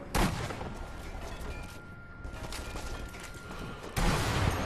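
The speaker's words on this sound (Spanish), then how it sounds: "Me están disparando" Gunfire from Sniper Elite V2 gameplay: sharp bursts open and close a dense, noisy stretch of battle sound, loud and close, with a steady hum underneath.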